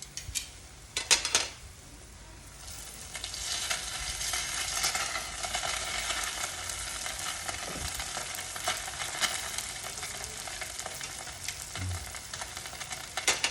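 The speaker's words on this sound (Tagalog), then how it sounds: "Hintayin uli natin siyang pumula hanggang sa matapos nating maiprito lahat." Lumpia spring rolls bubble and sizzle in hot oil with a steady crackling hiss, a few sharp utensil clinks near the start and occasional knocks against the pan.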